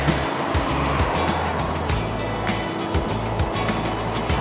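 Motorcycle engine on a chilly lunchtime commute ride to Petone Beach in Lower Hutt, Wellington: a steady, close low drone with pulsing rumble and constant wind rush throughout, no voices.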